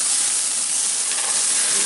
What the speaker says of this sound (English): You can see the fat sizzling off the surface of the meat, just looking terrific.